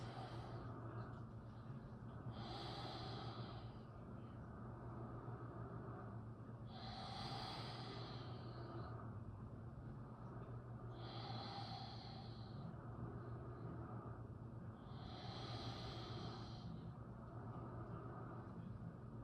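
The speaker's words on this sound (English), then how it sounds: "Take about 3 huge breaths all the way to empty with your exhales." Deep yoga breaths with long exhales all the way to empty, heard as about five slow, soft, evenly spaced breathy pulses over a low steady background hum.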